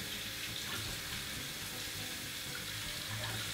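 Tap water pours steadily into a pot while oven-baked giant beans are being prepared, a continuous close splashing hiss that holds at an even level throughout, with no talking.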